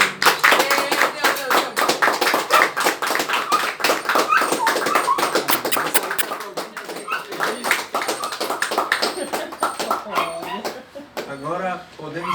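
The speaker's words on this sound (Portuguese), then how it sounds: "Vamos aplaudir o Senhor." A church congregation claps in quick steady rhythm during worship, loud and close, with voices calling out over the clapping.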